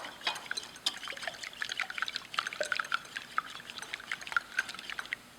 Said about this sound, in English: I'm just going to lightly whisk those, break them up